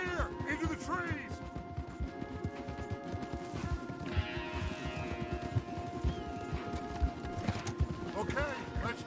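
Horses' hooves clip-clop steadily on the ground in the video game Red Dead Redemption 2, a close, rapid trotting rhythm with a horse whinnying briefly, while characters talk over the hoofbeats.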